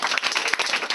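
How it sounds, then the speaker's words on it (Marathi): Audience clapping hands at a school gathering, a dense steady patter of many claps with a few sharper peaks, fairly loud and close, with no talk over it. "टाळ्या वाजवा."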